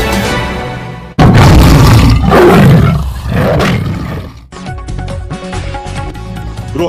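A loud, booming lion-like roar sound effect opens a news channel intro, sustained and dramatic, then gives way to bright music.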